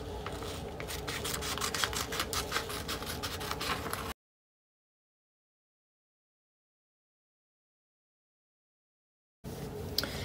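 Scissors cut fabric pieces for an ice cream appliqué, making rapid, close, rhythmic snipping and rasping strokes for about four seconds. A stretch of silence follows, then the cutting starts again briefly.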